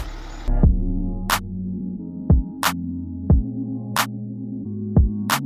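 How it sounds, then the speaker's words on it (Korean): Hyundai Veracruz engine idling, heard from outside the SUV after warm-up with the air conditioning off: a steady low hum runs throughout, with periodic sharp clicks or thumps repeating roughly every second. "일단은 베라 크루즈 차량은 시동을 걸어 놓은 상태고요."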